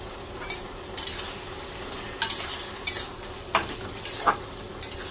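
Turmeric, cumin, coriander powder and Kashmiri chilli being fried with potatoes in a pan, a steady close sizzle broken by sharp scraping stirs every second or so, with no talking.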